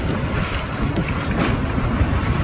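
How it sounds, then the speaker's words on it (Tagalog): Strong gusty wind buffeting the microphone outdoors in a garden in spring, a loud steady roar with low rumbling bursts throughout. "Sobrang lakas ng hangin."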